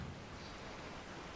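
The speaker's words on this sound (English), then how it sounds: "it is now night time and raining" Rain falling at night in the video game Resident Evil 4, a faint, steady broadband hiss that continues evenly with no voices over it.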